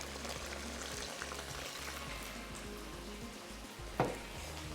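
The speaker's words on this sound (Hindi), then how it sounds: "इसमें शामिल कर देंगे हम चिकन जुलियन और बड़े अच्छे तरीके से हमने इसको जिंजर गार्लिक पेस्ट के साथ फ्राई करना है" Julienned chicken fries with ginger garlic paste over a high flame for Kashmiri pulao, a continuous dense sizzle with a sharper clatter near the end and no talking.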